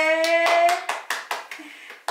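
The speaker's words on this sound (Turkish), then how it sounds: "Benle birlikte yapan herkese kocaman alkış." Hands clapping at the end of an ab workout session, about nine quick sharp claps in an uneven rhythm, close and fairly loud, starting over a fading tone.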